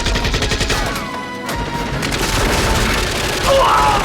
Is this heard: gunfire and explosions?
yes